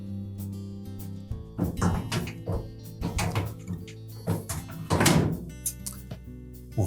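A filter cover assembly is fitted back into a Samsung dryer during a repair, making a series of close plastic and metal knocks, clunks and rattles, several quick and one louder scraping thump.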